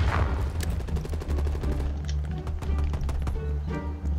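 Gunfire in the video game Call of Duty Cold War, rapid bursts of sharp automatic shots over a low in-game background rumble, steady and fairly loud throughout.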